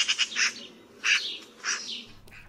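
A magpie gives a harsh chattering call in short bursts, three rattling phrases spaced about half a second apart, clear and fairly close with quiet gaps between.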